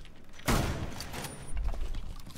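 Gunfire in Rainbow Six Siege, a sharp close burst of rapid shots followed by a second, duller volley of rounds.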